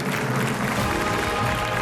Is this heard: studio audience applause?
yes